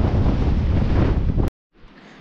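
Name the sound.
wind blowing over river rapids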